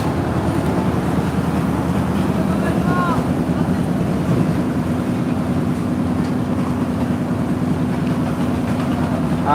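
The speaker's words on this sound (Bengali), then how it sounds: "এদিকে তেলের জাহাজ বেরিয়ে যাচ্ছে লঞ্চকে তেল দেওয়ার জন্য" An oil tanker boat leaving the Sadarghat launch terminal on the river, its engine a steady low drone under wind and lapping water, with a faint horn-like tone partway through.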